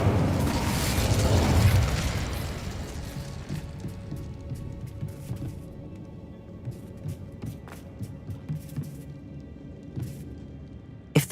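Incendio fire spell in Hogwarts Legacy bursts out as a loud, rushing whoosh of flame that swells over the first two seconds, then dies into a quieter crackling rumble with scattered small pops and clicks.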